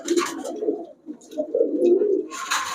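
Pakistani high-flyer Giribaz pigeons in a shop coo up close in low, throaty, rolling phrases, with brief breaks and sharper bursts of noise at the start and end.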